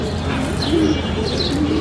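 Pigeons coo in a low, continuous burble at a loft while homing pigeons return from a race, close and steady with no talk.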